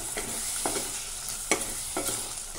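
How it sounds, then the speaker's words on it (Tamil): Chicken biryani masala with yogurt bubbles and sizzles in a pot, a steady close crackle broken by a few sharp stirring scrapes, with no voices. "நல்லா கொதிச்சுட்ருக்கு."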